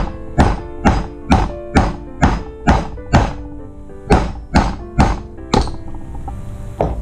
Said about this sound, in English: That's why I use a heavier hammer, because I want to get that round.